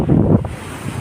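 Sea waves washing against the shore near a seaside underground shrine, with heavy wind buffeting the microphone; a loud, close surge of rumbling water and wind, easing after a moment.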